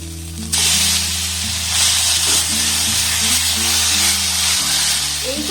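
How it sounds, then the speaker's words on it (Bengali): Two kinds of onion frying together in a pan while being stirred, a loud steady sizzle starting abruptly and holding throughout, with a low background hum underneath. "এই দু রকম পেঁয়াজ একসাথে একটু নাড়াচাড়া করে আমি ভেজে নেব"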